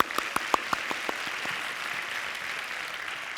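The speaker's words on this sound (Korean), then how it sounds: "저렇게 박수 한번 합시다." Church audience breaking into applause: a few sharp, separate claps at first, quickly merging into a soft, distant wash of clapping that fades and thins out.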